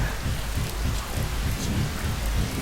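Steady rain pours in the video game Stick It to the Man, a dense continuous hiss with low rumbling that may be distant thunder, filling the whole stretch without speech.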